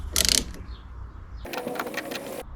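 Ratcheting clicks and mechanical rattles from a wrench snugging up bolts on a 2010 Audi A3 1.6 TDI during a service, a short burst of clicks followed by a longer stretch of steady mechanical rattling nearby.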